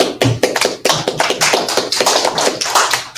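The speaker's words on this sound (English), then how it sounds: "Clap." Rapid hand claps land in a quick irregular series, sharp close slaps repeated several times a second over a few seconds, with no talking.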